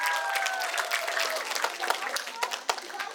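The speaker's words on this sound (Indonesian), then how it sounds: "Tepuk tangan sekali lagi." Audience applause at a stage event for the fourth anniversary of an Indonesian education organisation, a dense burst of clapping with a few whistle-like tones early on, steady and fairly close.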